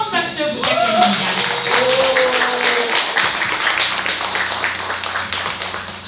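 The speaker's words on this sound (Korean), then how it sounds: "여러분 뜨거운 박수 부탁드립니다." A crowd claps warmly at a Buddhist book launch ceremony, steady, close applause running throughout, with a voice speaking briefly over the opening seconds.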